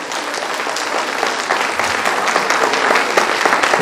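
Audience applause at a gathering, a dense sustained clapping from many hands that swells slightly and keeps up throughout, loud and without voices.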